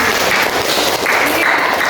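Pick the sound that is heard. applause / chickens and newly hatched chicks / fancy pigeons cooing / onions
applause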